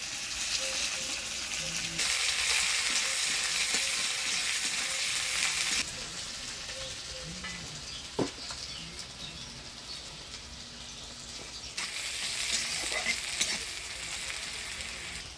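Chopped onion drops into hot oil already seasoned with dried red chilli, whole cumin and bay leaf, giving a steady loud sizzle with stirring scrapes and a sharp clack partway through.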